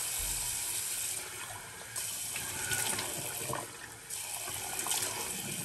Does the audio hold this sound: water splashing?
yes